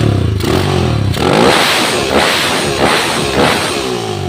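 A carbureted Honda GL motorcycle engine that is hard to tune runs close by with a rough, throbbing rumble and a few revving surges, no voices present.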